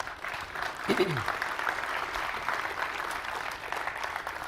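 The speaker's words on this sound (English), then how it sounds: "So give those guys a round of applause." Applause from the audience at the Nvidia CES 2014 keynote, a steady wash of clapping at moderate volume, with a voice and a short tonal sweep near the start.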